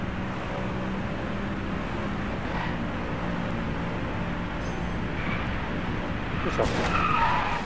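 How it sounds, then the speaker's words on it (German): A car skids and slides in the racing video game Driveclub, with continuous engine roar and tyre scrubbing that swells toward the end and a short squeal near the finish. "Oh, da bin ich aber böse ins Rutschen gekommen"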